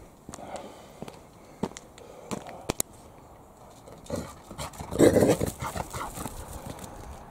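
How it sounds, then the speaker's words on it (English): A wet dog moves about after a swim. Its claws tap and its feet patter irregularly nearby, and a louder rustling burst of shaking and movement comes in the middle. "Crazy dog."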